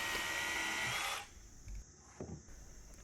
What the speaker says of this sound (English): we take our hammer drill with a concrete bit on it